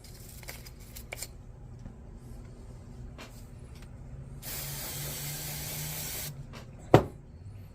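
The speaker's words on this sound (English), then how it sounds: "Now the electronics cleaner just gets everything out." A can of electronics cleaner sprays into the crud-filled bearing cup of a Talica 16 fishing reel, a steady close hiss lasting about two seconds amid small handling clicks, followed by a sharp knock.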